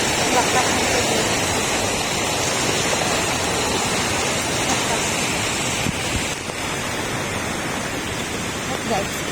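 Strong rushing water of Tai Shing Stream in Hong Kong roars steadily and loudly close by, a dense broadband wash that barely changes over the whole stretch.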